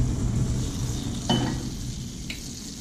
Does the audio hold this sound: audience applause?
no